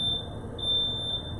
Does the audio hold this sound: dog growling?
no